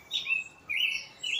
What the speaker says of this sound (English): It's very peaceful listening to birds.